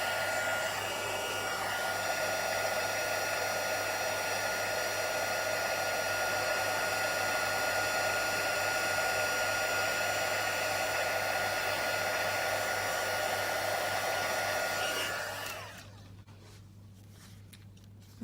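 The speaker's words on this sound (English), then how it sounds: "So I'm going to heat this up with the heat tool" A heat tool blows hot air over an embossed card: a steady, loud, continuous whooshing hum that holds for about fifteen seconds before cutting off, leaving near silence.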